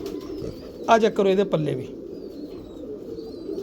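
Domestic pigeons, including a grey hen, coo softly and steadily in the background while someone speaks over them for a moment.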